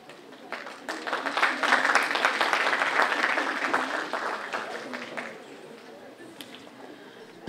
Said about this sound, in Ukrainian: І знову зустрічаємо оплесками студентів 14 та 15 груп спеціальності «Музичне мистецтво»